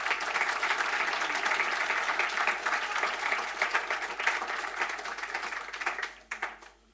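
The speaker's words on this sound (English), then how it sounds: "I would like you to give them a round of applause." Audience applause at a Mandela University address by the Vice-Chancellor, a dense, steady round of clapping from a large crowd that carries evenly for about six seconds before thinning out and fading at the end.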